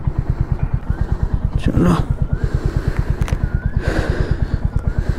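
A motorcycle setting off at dawn on the road from Malda toward Siliguri, its engine thumping in a steady, rapid low pulse throughout, with someone talking over it.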